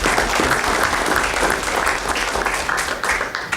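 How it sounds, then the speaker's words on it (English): Sustained applause from the audience at a Wood County board meeting, dense steady clapping filling the room for several seconds without pause. "Ask for a round of applause for those people for that."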